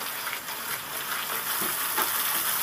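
Green chilies fry in a simmering spice paste for a fish curry, a dense continuous sizzle and hiss that holds steady and close throughout, with no voices.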